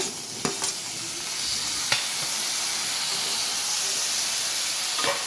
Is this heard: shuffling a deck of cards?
no